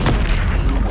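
A fiery Incendio spell is cast in Hogwarts Legacy, erupting as a single loud, close whoosh-boom that fills the short moment.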